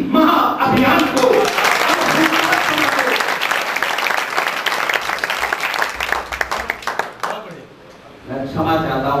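Audience applause at a poetry recitation during an Amrit Mahotsav celebration, steady dense clapping throughout that thins and dips briefly near the end before picking up again.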